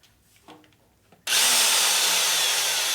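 An electric drill sits quiet, then suddenly whirs up to full speed at about the middle and keeps spinning loudly and steadily to the end.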